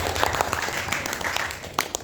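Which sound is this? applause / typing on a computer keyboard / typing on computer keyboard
applause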